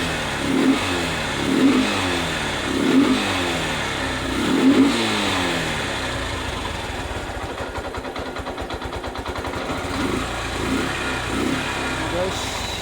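Motorcycle engine running again after a spark plug replacement: a close, loud engine idling and revving in repeated throttle blips, then a steady, fast-pulsing run, with faint talk at times.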